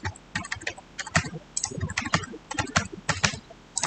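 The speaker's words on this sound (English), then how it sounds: "I am typing the current password and I am now typing the new password." Keys clatter on a computer keyboard as someone types a current password and then a new one, with uneven bursts of clicks and short pauses between them, close up and with no talking.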